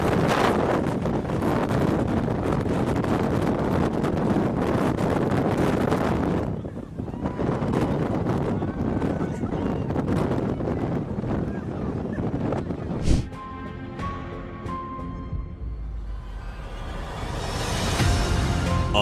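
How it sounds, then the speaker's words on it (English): Strong wind from jet exhaust roars as a loud broadband blast buffeting the microphone, cutting out briefly before returning, then giving way to a quieter hum. "taking all that jet exhaust straight to the face is gonna shave a few years off your lives, but bro, the wind's so strong!"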